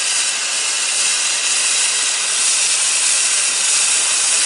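A fire starter burning with a steady, loud hiss that holds constant throughout without pause, close by and alone with no voices.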